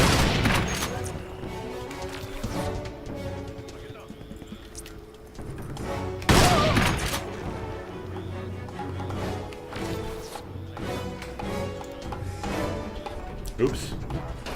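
Gunfire rattles through Crysis gameplay, with bursts and single shots scattered across the stretch, one heavy blast near the middle standing out, and a voice talking over parts of it.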